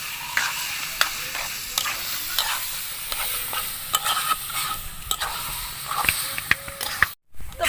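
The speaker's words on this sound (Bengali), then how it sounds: "ছোলা সিদ্ধ, ভালোভাবে আমি সব কিছু মশলার সাথে কষিয়ে নেব।" Boiled chickpeas sautéed with spices in a pan, a steady sizzle under repeated scraping strokes of a spoon against the pan, close up, with a brief silence near the end.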